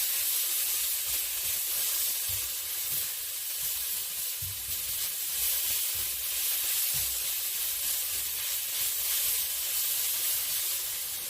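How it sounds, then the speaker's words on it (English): Steak sizzling in a frying pan over high heat, a steady broadband hiss with a few crackles and occasional low stirring bumps, close and continuous, with no voices. "So I've got to stir around my my steak here. You can hear the sizzling."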